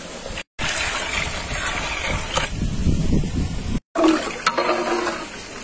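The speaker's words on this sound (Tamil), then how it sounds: "இப்போ நம்ம இளநீ தண்ணியை சேர்த்துக்கிறோம்." Tender coconut water is poured into cooled boiled milk for a payasam, a steady close-up gush of liquid broken by two short pauses.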